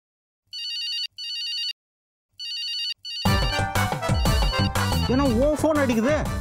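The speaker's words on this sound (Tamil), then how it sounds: "உன் ஃபோன் அடிக்குது" A mobile phone rings with three short bursts of a bright electronic tone separated by brief gaps. Loud music and voices then cut in over it.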